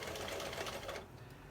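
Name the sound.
sewing machine sewing a nylon mask strap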